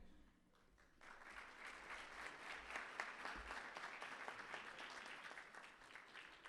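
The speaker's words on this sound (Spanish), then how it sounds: "Recibamos con un fuerte aplauso al arquitecto Hiram Andrade" A conference audience at a BIM forum applauds to welcome a speaker, steady crowd clapping that swells after a quiet first second and stays even, faint and distant.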